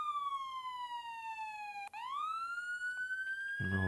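A fire truck siren from the Roblox game Pompier Tycoon wails in a steady, falling then rising electronic tone, loud and alone, with a brief break midway and a short burst of other noise at the very end.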